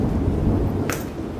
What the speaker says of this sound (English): Sorry for the thunder?